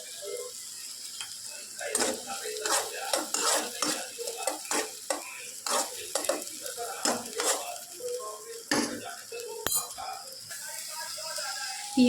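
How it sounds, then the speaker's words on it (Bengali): Capsicum frying in a kadai, with a steady sizzle broken by repeated scraping and clattering stirs of a utensil against the pan, close and fairly loud throughout. "আমি ক্যাপসিকামটা ভেজে নিচ্ছি"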